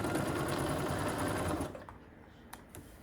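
A sewing machine stitches a quilt block in a steady, fast, close whirring run for about a second and a half, then stops, leaving quiet handling sounds and a couple of faint clicks.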